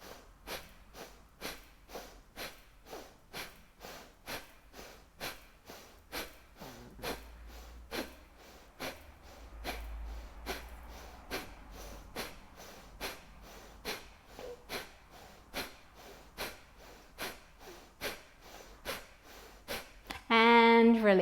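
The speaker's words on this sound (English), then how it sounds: "breathe in and out through the nose, and every exhale, the belly comes in." Slow, steady breaths in and out through the nose during a yoga breathing exercise, each soft airy hiss repeating at an even rhythm close to the ear, with a brief voice near the end.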